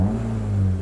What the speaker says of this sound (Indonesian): Nah, kita juga bisa dengar suara mesin.